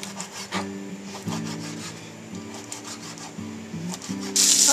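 Knife rough chopping about five slices of bacon on a kitchen cutting board, giving a series of close, uneven scraping and rubbing strokes with soft thuds, and a brief hiss at the end.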